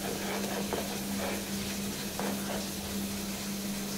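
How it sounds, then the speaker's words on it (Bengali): Flat beans (sim) are ground into a paste for a bhorta, giving rhythmic scraping and squelching strokes. A steady low hum runs underneath the whole time. "সিমটাকে আগে বেটে নিচ্ছি"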